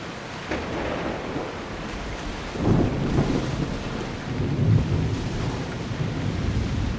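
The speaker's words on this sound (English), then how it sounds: "That looks like quite the storm!" Thunderstorm with rain in the video game Assassin's Creed Odyssey: steady heavy rain hiss with low rumbling thunder swelling twice, alone without voices.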